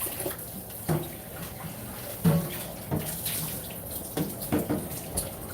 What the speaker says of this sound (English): So I'm going to rinse out one of my bowls.